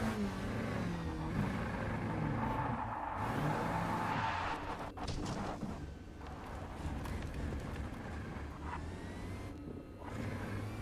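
Porsche 963 LMDh hypercar engine in the Rennsport racing game, a continuous loud droning run with rising and falling revs and brief gear-shift dips, alone without talk.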